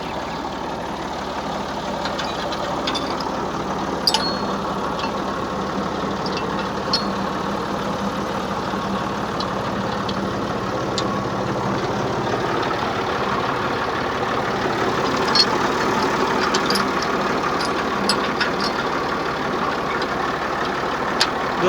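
A 2017 Massey Ferguson 260 tractor engine idles steadily at close range, a continuous loud rumble with an even, unbroken drone throughout.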